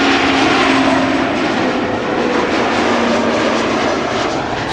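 German Airways Embraer 190 jet passing at Schiphol Airport, a loud, broad, continuous engine roar with a slowly shifting whine, steady throughout.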